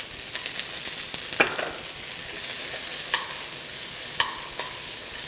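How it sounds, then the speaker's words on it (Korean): Gochujang stir-fried in oil in a pan, a steady sizzle with a few sharp scraping stirs of a spoon, close and without talk. "고추장을 먼저 넣고 기름에 같이 볶아줍니다"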